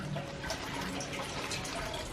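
Water runs and trickles steadily inside a small spring-fed reservoir, a soft continuous splashing wash with faint dripping, close by and with no talk.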